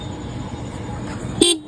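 A vehicle horn gives one short, loud toot over steady rumbling road and engine noise.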